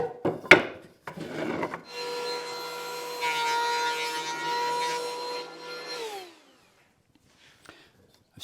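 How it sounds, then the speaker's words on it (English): Rough wooden table legs are fed through a planer: a couple of knocks and handling sounds, then a steady humming whine with tonal motor overtones that runs for about four seconds and winds down to silence, close and moderate in level. "I want to run these through the planer. They're a little bit rough on just one edge."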